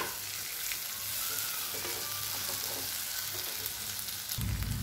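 Tomato being sautéed with soybean chunks in a pan over low heat for soybean pulao, a steady close sizzle with faint stirring scrapes, swelling louder near the end as fresh moisture hits the hot oil.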